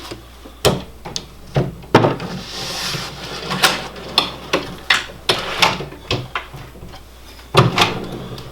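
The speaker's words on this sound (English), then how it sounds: "The next thing is installing the drawer box." A wooden drawer box is pushed onto KV G-Slide push-to-open slides, giving a series of close, sharp knocks, clacks and sliding rattles in an irregular rhythm, loud and without talk.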